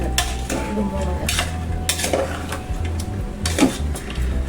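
Chicken, potato and sprouts are stirred in a pan, giving repeated scraping clatter of a spoon against metal over a low hum, several distinct strokes spread across the moment.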